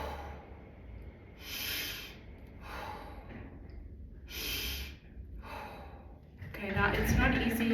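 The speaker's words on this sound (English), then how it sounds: "Now in through the nose, out through the mouth." Slow, deliberate diaphragmatic breathing: several audible inhalations drawn in through the nose alternate with hushed, airy exhalations out through the mouth, close-miked in a calm, regular rhythm.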